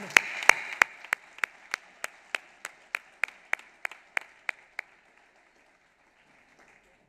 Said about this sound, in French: Je pense que nous pouvons commencer à vous applaudir